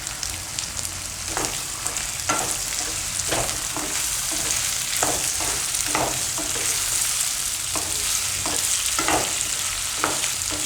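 Carrots and capsicum frying in a pan for aloo matar paneer, a steady sizzle with repeated scraping stirs at irregular intervals, close and fairly loud, no talking.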